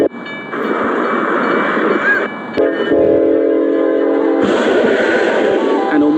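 A train blasts its horn while rumbling through a crossing in Midland County, Texas, and slams into a stationary truck loaded with large metal pipes. Loud rolling noise and steady horn tones fill the whole stretch, with a heavy impact shift partway through.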